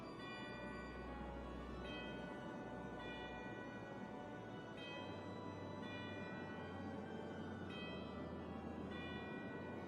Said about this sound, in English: Church bells.